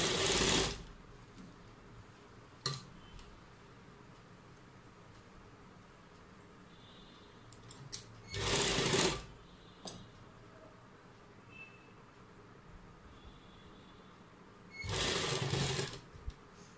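Three loud bursts of a sewing machine stitching fabric loops into a kurta neckline, each lasting about a second, separated by quieter gaps with faint handling clicks.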